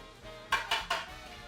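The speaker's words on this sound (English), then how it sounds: "Let's wash our tongs here" Metal tongs knocked against a pan or sink during washing in a kitchen: three quick, bright clanks in close succession, near and clear over quiet background hum.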